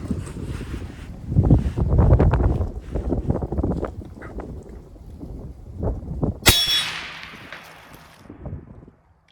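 A suppressed 6.5 Creedmoor rifle fires at a steel target 300 yards away, with wind buffeting the microphone and then one sharp bright clang of the hit ringing out briefly.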